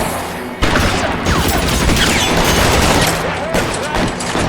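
Gunfire in L.A. Noire breaks out suddenly as a loud, continuous fusillade of rapid shots and booming impacts, with a voice talking under the shooting.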